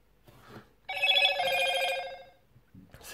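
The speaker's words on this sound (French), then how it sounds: "C'est quoi ce truc de notification? Franchement, il est dégueulasse." A Motorola One Vision smartphone plays a short electronic notification chime, a bright trilling tone lasting about a second and a half, close and clear between brief quiet stretches.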